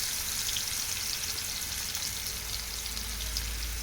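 Cucumber and tomato pieces fry in hot oil, giving a dense, steady sizzle that stays close and even throughout, with no voices.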